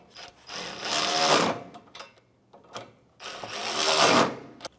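Rapid mechanical clicking from a ratchet tightening 10mm nuts on a starter of a 2011-2016 Hyundai Elantra, two close bursts of about a second each, separated by a few lighter taps and handling noises.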